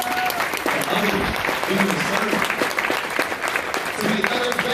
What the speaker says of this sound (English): Give yourselves a round of applause for others.